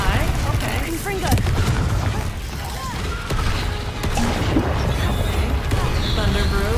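Fiery blasts and booming impacts from the Confringo explosion spell in Hogwarts Legacy, loud and continuous with rumbling crashes during a fight, while a player talks over the game sounds.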